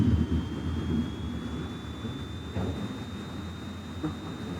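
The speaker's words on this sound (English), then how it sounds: "But first, we'll power on the aircraft by pressing E." An F-84E Thunderjet jet fighter powers on while parked on the ramp at Seoul in the IL-2 Korea flight game, a steady low engine rumble with a rising high whine that holds throughout.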